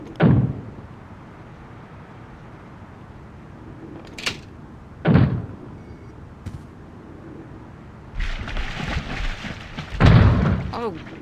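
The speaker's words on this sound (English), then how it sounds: "If you don't open, we'll break down the door." Heavy thuds of a door being broken down in The Longest Journey adventure game, several loud booming impacts spaced apart, then a busier crashing stretch toward the end with a voice crying out.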